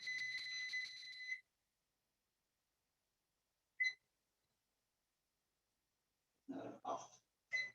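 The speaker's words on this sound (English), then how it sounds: "Why does it keep beeping?" A repeating electronic alarm beeps in steady bursts during a virtual baking workshop, loud at first, then a single brief beep after a pause; voices talk near the end.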